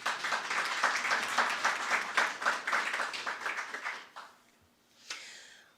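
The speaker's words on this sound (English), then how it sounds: "I hope I'm going to hear lots of shouting and cheering along with your family today." Graduation ceremony audience applauds a BCom graduate with steady, moderately distant clapping that fades out, followed by a brief lone sound near the end.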